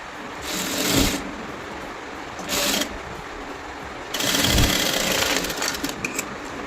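Sewing machine stitching straight seams on a baby frock, with three close bursts of rapid mechanical whirring separated by quieter pauses, the longest run coming at the end.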